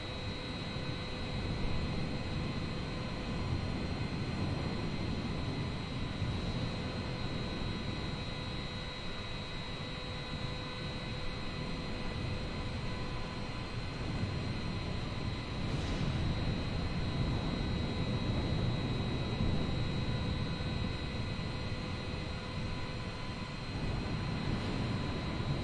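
Aircraft backup engine during low-altitude flight near Miami airport: a steady, loud droning hum with a constant whine, continuous for the whole stretch with no talking.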